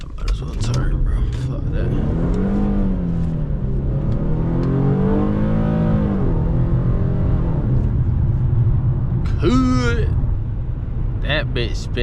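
An Infiniti G37S pulls hard late at night with its wheels spinning, the engine revving loudly and climbing in pitch over a steady roar, heard close from inside the car, with brief tire or engine squeals near the end.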